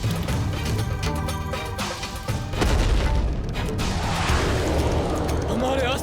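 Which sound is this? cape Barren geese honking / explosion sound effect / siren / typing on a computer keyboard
explosion sound effect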